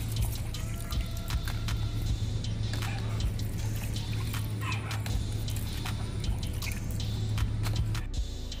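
Pandan leaves being rinsed in a basin of water, with soft splashing, dripping and trickling at close range over a steady low background hum.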